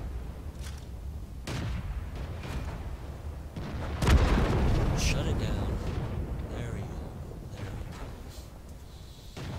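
A tank cannon fires in the World of Tanks video game, one heavy booming blast midway with a long rumbling tail. People talk under the game sounds.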